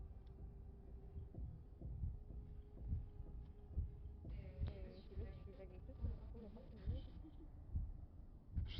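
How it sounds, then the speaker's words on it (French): Heartbeats drawing closer in the horror video game Inside the Backrooms, a soft rhythmic low thumping under a faint hum, with people talking quietly over it. "j'entends des battements de cœur qui se rapprochent"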